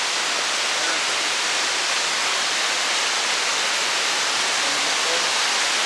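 Rainbow Falls, a waterfall along a creek on a hike, roars as a steady, dense broadband rush that fills the whole stretch without a break, close and constant.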